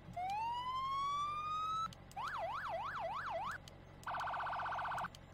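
A police car siren mod in Farming Simulator 17 cycles through modes: a long rising wail, then a fast up-and-down yelp, and after a pause a rapid warbling tone, each electronic and loud.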